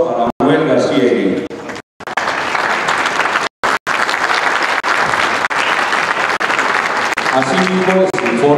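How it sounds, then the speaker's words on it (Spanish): Loud, sustained audience applause fills a Holstein dairy cattle show at a Mexican international fair, with a voice talking over the clapping at the start and end and brief dropouts partway through. "Le solicito al respetable un fuerte aplauso para Manuel García Eguín."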